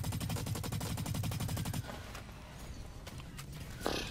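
Rapid automatic gunfire from a Blacklight: Retribution match, a dense rattling burst of evenly spaced shots for about two seconds that then cuts to a quieter stretch of scattered in-game noise and a brief later crack.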